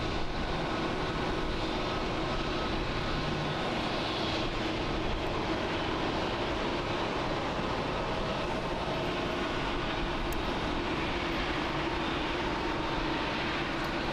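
An All Nippon Airways Airbus A321neo pushes back at Haneda International Airport in Tokyo, giving off a steady, fairly faint broadband engine roar that holds evenly throughout with no voices.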